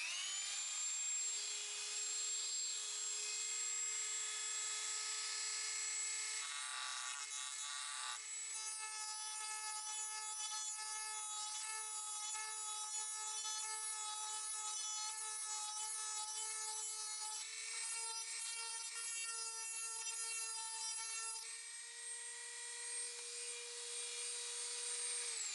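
A high-pitched rotary grinding tool whines steadily as it grinds plastic bits off an assault blaster part, its pitch shifting slightly as it bites into the material, loud and close, with no talking.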